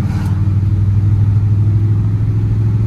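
A 1969 Dodge Charger with a broken distributor pulls under hard throttle on an uphill climb, its engine a loud, steady, close-up low rumbling drone that holds level throughout.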